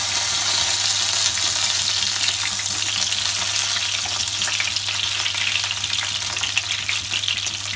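Fish pieces fry in oil in a kadai, giving a steady, close sizzle and crackle that runs evenly for almost eight seconds, with a constant low hum underneath and no voices.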